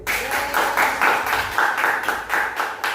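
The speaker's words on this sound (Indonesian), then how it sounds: "Beri aplaus mungkin." An audience in an Islamic prayer lesson gives a round of applause, a continuous, fairly close clatter of many hands clapping in uneven pulses for about three seconds.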